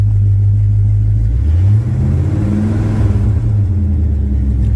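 A 1971 Chevelle engine runs close by and loud with a steady, deep rumbling idle, its pitch shifting slightly partway through before settling back to an even idle.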